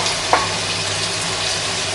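Vegetables frying in hot oil in a pan for pad Thai, a steady dense sizzle close by with a brief louder crackle near the start and no talking.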